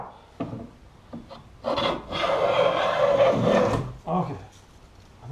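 Hand plane shaving a wooden frame piece, a long rasping stroke lasting about two seconds between shorter scraping passes and taps, close and fairly loud with no talk.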